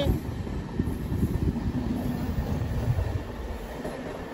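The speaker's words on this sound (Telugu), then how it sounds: "బ్యూటిఫుల్ వ్యాప్ 7 లోకోమోటివ్ తో ఒక ట్రైన్ అయితే వెళ్ళిపోతుంది" The Prashanti Express, hauled by a WAP 7 locomotive on its run from Bengaluru to Bhubaneswar, rolls past with a steady, loud rumble of carriages that holds throughout.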